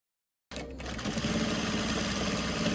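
Sewing machine running steadily while stitching along a fringe seam on a throw pillow, a close, continuous mechanical whir after a brief silent start.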